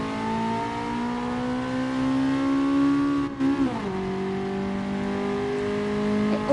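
An old-style Mercedes race car engine in the GT Sport VR video game, a steady whining drone that rises, drops sharply at a gear change, then climbs again, with no voices.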